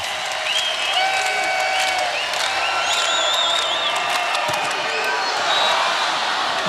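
Volleyball arena crowd at a men's match between Hawaii and CSUN, rising and cheering at match point: a dense, steady roar of voices with whistles and shouts, loud and sustained throughout.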